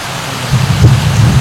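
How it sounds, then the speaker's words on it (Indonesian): Heavy rain pours steadily during an outdoor fishing session for carp, a dense broadband wash with a low rumbling undertone that swells louder partway through. "Hujannya deras banget nih."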